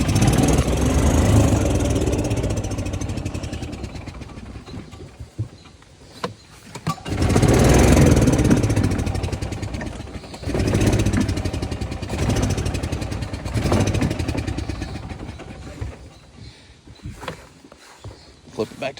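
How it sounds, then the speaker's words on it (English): A Yamaha golf cart engine with a newly fitted starter belt cranks and runs at a steady, fairly loud idle, dropping briefly and surging again as the throttle is pressed, with someone talking over it. "with that new starter belt, it should start every time I press the gas and not spin"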